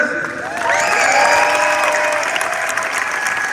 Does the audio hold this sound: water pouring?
no